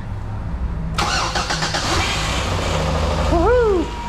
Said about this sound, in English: let's go starting the engine. All right, this is first start after.